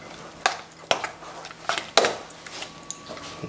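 Croqueta béchamel being stirred in a pan, the thick sauce likened to aligot: a few scattered soft scrapes and clinks of utensil on pan, fairly quiet and close, with long lulls between strokes and no talk.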